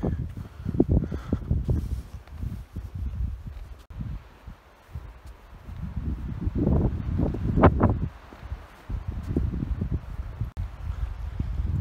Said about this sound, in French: Ah, il commence à avoir beaucoup de vent là